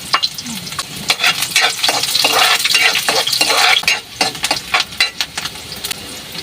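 Garlic and onion sizzle in hot oil in a pan while being stirred for a coconut heart stir-fry, with a steady frying hiss and repeated scraping of a utensil against the pan, close and clear.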